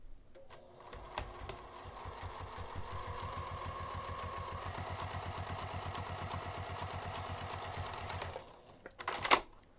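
A sewing machine runs continuously for about eight seconds, top stitching a fabric edge at 3 mm stitch length, a close, even rapid mechanical chatter that stops, followed by a few brief handling clicks.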